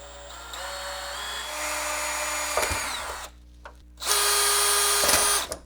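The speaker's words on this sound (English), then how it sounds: "You just take your drill and you go to town." A power drill whirs in a few long runs with pitch changes as it bites into the back of a monitor, broken by short pauses, close and loud.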